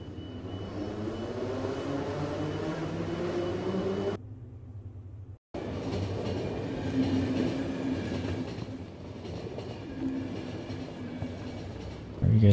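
Train running in the video game The Final Station: a steady, continuous rolling rumble with faint rhythmic clatter that cuts out briefly partway, then resumes just as loud, with a voice speaking over parts of it.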